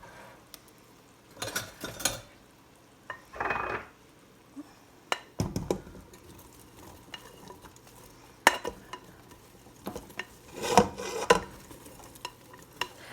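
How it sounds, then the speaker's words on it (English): Jalapeno slices being tipped into a boiling pot and stirred while making candied cowboy candy, heard as intermittent splashes, clatter and spoon scrapes against the pot over a low bubbling background, with no speech. "We're going to carefully dump in our jalapenos"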